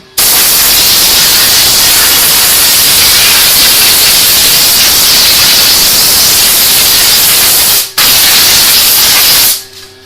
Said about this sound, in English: I go get me an air hose